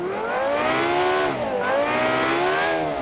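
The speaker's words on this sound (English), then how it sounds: "a very loud V10 engine" A very loud V10 engine in an all-wheel-drive car revs hard, its pitch climbing, dipping briefly, then climbing again in a continuous aggressive whine.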